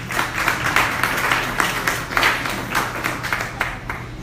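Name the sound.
audience applauding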